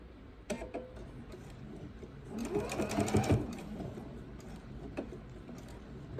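A sewing machine runs a seam on a fabric bowl cozy, its rapid mechanical stitching whirring and ticking steadily, swelling louder midway before easing back, with a few sharp clicks and no talking.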